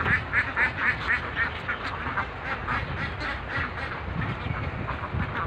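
Young Chinese ducklings at a duck farm with two ponds quack in a dense, continuous chorus of short repeated calls, close and fairly loud with no talking.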